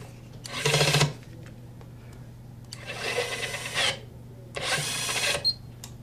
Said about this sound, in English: I'm going to do a few rundowns on the torque analyzer to confirm that my calibration is taken.